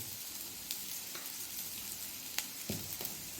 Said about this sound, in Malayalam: സവോള നല്ലപോലെ വഴന്ന് കഴിഞ്ഞ് ഇതിലേക്ക് നമുക്ക് കുറച്ച് മുളക് പൊടി ഇട്ട് കൊടുക്കാം